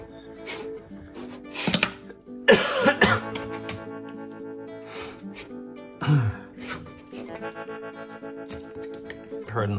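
Several harsh, close coughs and throat-clearing bursts from a person who has choked on something, coming in irregular fits over a background of steady hum and tonal noise.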